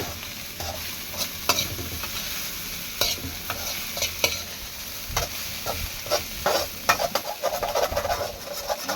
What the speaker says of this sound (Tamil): ஒரு வானல் நிறையா இருந்தது வெண்டைக்காய், போட உள்ள வதங்கினோடனே ரவுண்டு போட்டுது